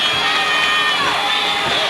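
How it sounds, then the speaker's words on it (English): A homecoming-day crowd at a 2004 Vineland versus Millville high school football game cheers steadily, a dense wash of shouting and whoops from many voices that holds strong and unbroken throughout. "that's just a sampling of some of the guys who are cheering for this special day today, homecoming day"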